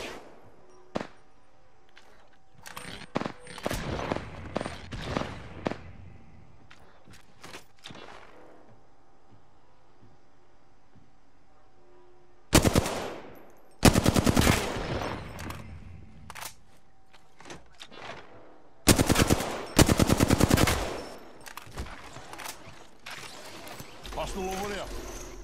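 Eva-8 shotgun fire in a ranked Apex Legends match, heard as a few loud, sharp bursts spaced apart, with quieter game sounds between them and a voice talking over parts of it.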